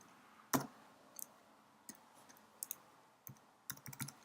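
Sharp mouse clicks on a Mac computer, a few isolated taps spaced irregularly, loudest at first, then lighter single and double clicks against a quiet room.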